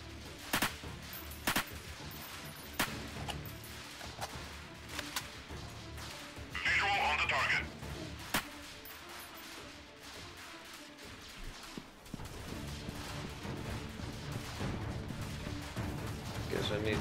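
In the Freeman Guerrilla Warfare game, distant and mid-range rifle shots crack in scattered single bursts under ongoing battlefield noise. Someone talks over the gunfire at points.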